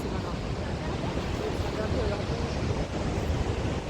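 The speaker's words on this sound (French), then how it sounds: "grosses vagues" Large ocean waves breaking on a beach at Capbreton, a steady loud roar of surf with wind buffeting the microphone throughout.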